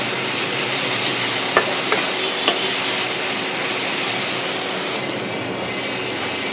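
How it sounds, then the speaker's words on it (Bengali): Ginger-garlic paste with cumin and coriander fries in a pan as the base for a layer chicken curry, giving a steady, loud, close hiss broken by a couple of faint clicks. "আদা বাটাটা আমি একটু ভালোভাবে ভেজে নেব যাতে কাঁচা গন্ধটা চলে যায়"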